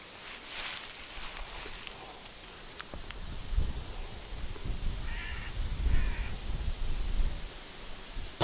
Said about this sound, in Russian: И ворона.